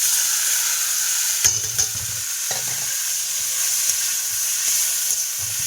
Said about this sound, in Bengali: পেঁয়াজ রসুনটা একদম লাল লাল করে ভেজে নিয়েছি এবারে শাক দিয়ে দেবো